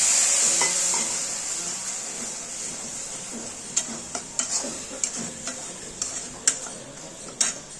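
Spices with Kashmiri chilli sizzle in a pan as a splash of water goes in for an omelette curry. A hissing fry fades, and then a utensil stirs with scattered sharp scraping clicks against the pan.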